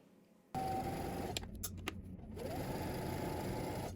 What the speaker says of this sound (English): now we're going to head to the sewing machine